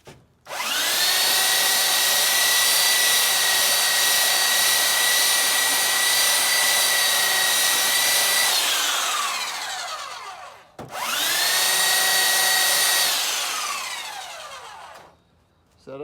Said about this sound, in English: To clean this block of wood, I'm going to use the belt sander